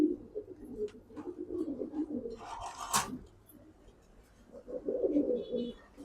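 Huma pigeons coo in their loft: low, soft, repeated murmuring calls, interrupted once by a brief sharp noise midway, with no talking.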